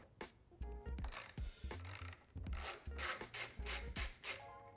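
A ratchet on a long extension loosens the handlebar bolts on a Harley-Davidson, giving a run of close, sharp ratcheting clicks in bursts of varying pace with short pauses between strokes.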